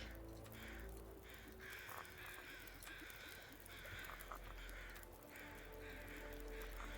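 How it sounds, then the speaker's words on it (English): Crows cawing far off in the woods, a few scattered harsh calls rising faintly over a quiet outdoor background. "those crows down below are for the deer"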